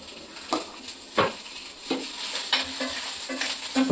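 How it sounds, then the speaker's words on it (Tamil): Onions and green chillies frying in a pan, a steady close sizzle broken by several distinct scrapes and clinks of stirring, with no talking. "வெங்காயம் லைட்டா ப்ரௌன் ஆனோடனே நம்ம பச்சை மிளகாயை போட்டுடலாம் guys."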